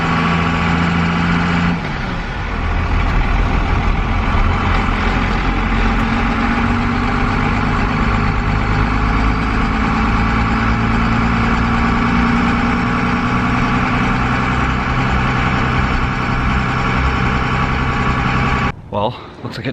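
A first-generation Cummins diesel truck engine idles with a loud, steady, rough rumble that holds for nearly twenty seconds before a brief clatter near the end.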